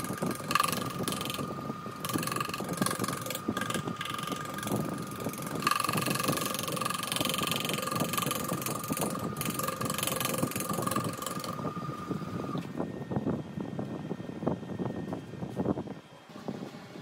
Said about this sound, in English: I'm just going to use this negative rake scraper to take off those little ridges